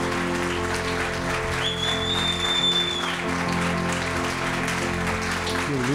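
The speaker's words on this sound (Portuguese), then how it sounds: "E que a igreja pudesse aplaudir a vida desse casal maravilhoso para as nossas vidas." A church congregation applauds a pastor couple, with steady, continuous clapping blended under a sustained musical backing and a faint tonal whine partway through.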